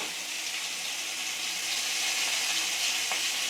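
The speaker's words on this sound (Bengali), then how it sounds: "আলু দিয়ে দিয়েছে, এবার আলুগুলো দিয়ে ভেজে নেবে" Potatoes fry in hot tempering fat in a home kitchen, giving a steady, close, even sizzle that holds through the whole stretch with no voices.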